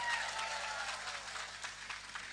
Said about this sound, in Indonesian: Tepuk tangan kangge panitia.